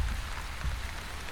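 Steady rain falling in The Wandering Village video game, a dense continuous patter with a low rumble, close and even throughout with no talk.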